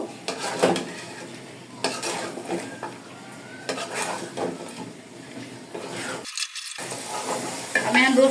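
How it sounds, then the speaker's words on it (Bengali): Chicken pieces being stirred and sautéed in a spice masala for a Bengali home lunch, with repeated scraping and clinking of a utensil against the pan over a soft sizzle. The stirring comes up close in bursts throughout. "দিয়ে হালকা করে একটু কষিয়ে তারপর পানি দিয়ে দিব"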